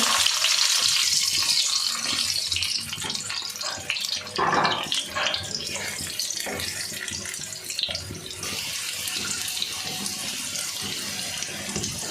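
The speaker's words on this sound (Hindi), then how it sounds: "आलू भी थोड़ा सा इसी घी में आलू फ्राई कर लें।" Potatoes frying in hot ghee for an aloo anday curry give a steady, close, fairly loud sizzling hiss with bubbling crackle throughout, and no one talks over it.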